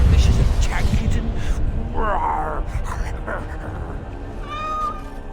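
A kitten meowing several times, close and clear, with a person talking over and between the meows.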